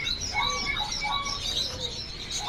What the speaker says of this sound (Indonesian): Di sini ada burung masteran Yuhina Kalimantan.